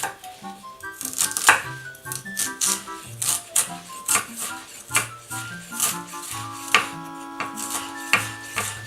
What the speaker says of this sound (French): vous avez coupé une première partie votre gingembre, une première fois. Et en fait, le but là, ça va être de le rendre le plus fin possible.